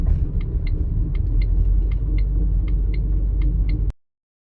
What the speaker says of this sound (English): It's either the CV joint or the wheel bearing is all screwed up, but something is definitely not right here.